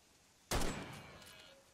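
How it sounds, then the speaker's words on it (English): A single gunshot rings out in a hunting video game, a sharp onset followed by a rolling echo that fades over about a second, sounding somewhat distant. "I heard that gunshot in distance."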